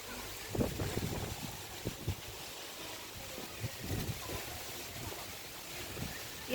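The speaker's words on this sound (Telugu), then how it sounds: "చూసారా గాలి ఏ విధంగా" Strong summer storm wind buffets the microphone in rough, uneven gusts, with low rumbling thumps and a steady airy rush behind them.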